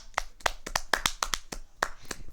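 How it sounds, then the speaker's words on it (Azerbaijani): A short burst of hand clapping for a round winner, about a dozen sharp claps at an uneven pace, close and fairly faint. "Adil alqışlayaq"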